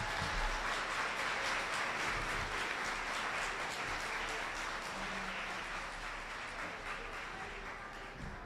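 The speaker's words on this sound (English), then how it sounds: "A round of applause for our Wexford graduates" Applause for graduates at a community school graduation ceremony, a sustained dense patter of many hands clapping in an indoor hall, steady and fairly loud for the whole stretch before easing slightly at the end.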